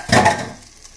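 A quick stir through clam sauce in a hot pan: one short, loud scraping swish with a brief sizzle that fades within a second, close up and with no talking.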